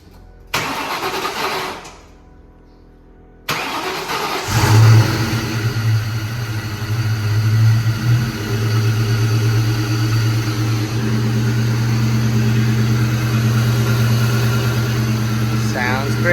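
A Ford Mustang engine cranks and catches after a couple of short attempts, briefly revving before settling into a steady, rumbling idle nearby.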